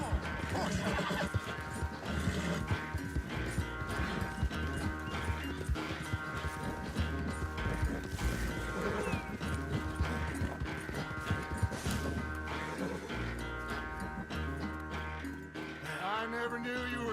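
In Red Dead Redemption 2, a horse whinnies loudly while hoofbeats clop steadily through a gallop, mixed with a game music score, crashes and occasional speech.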